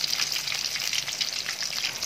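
An anchovy omelette (tortang dilis) frying in hot oil, giving a close, bright, continuous crackling sizzle with rapid spitting pops and no voices.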